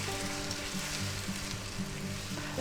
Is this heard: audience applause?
no